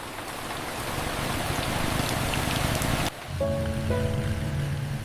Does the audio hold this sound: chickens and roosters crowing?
no